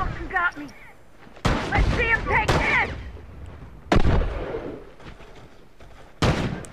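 Bursts of video game gunfire from a multiplayer match of The Last of Us ring out as several loud, sharp blasts spread across the clip, with someone talking between and over them.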